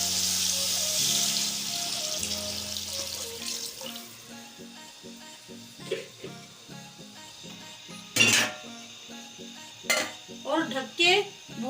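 Water pours steadily into a pot of chicken and potato pulao after the meat and spices have been fried, a rushing wash that fades out, followed by several sharp clinks of a utensil against the pot.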